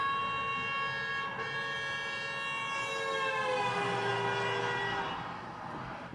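A car's siren passes by, a steady wailing tone that slowly drops in pitch as it moves from approaching to going away, fairly faint and heard alone without talk.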